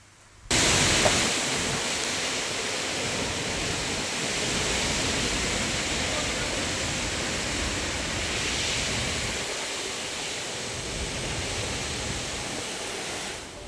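A torrential downpour over Saurashtra villages around Tana makes a dense, loud, unbroken hiss and roar of rain that begins abruptly and holds steady, with no voices.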